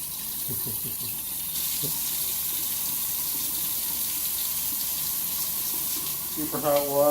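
Hot water runs steadily from a kitchen tap, a soft, continuous hiss, while someone speaks briefly near the start and again at the end.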